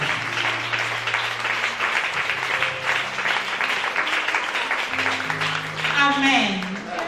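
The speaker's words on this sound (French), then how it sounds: "Acclamez très fort pour le roi de gloire" Church congregation applauding in a sustained, dense wash of clapping, with a voice talking and singing over it throughout and the applause swelling slightly near the end.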